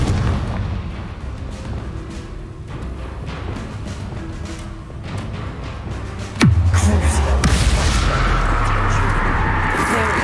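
Fire spell blasts in Hogwarts Legacy crack out as a series of dull booms and bursts, building to one loud, sharp explosion near the middle followed by lingering rumble.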